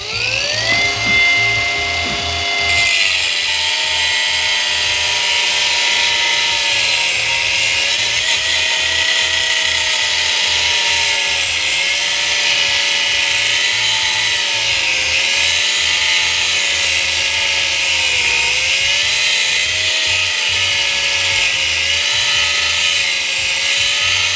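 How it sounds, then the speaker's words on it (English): An angle grinder with a cutoff wheel slices into a scrap electric motor clamped in a vise, a loud continuous high-pitched whine that holds steady, with slight pitch wobbles as the wheel bites. No talking. "See if my grinder has any power in it."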